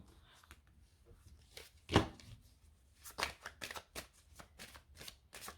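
Tarot cards being shuffled and drawn, a sharp riffle burst followed by a run of quick soft card slaps and flicks, close and quiet with no talking.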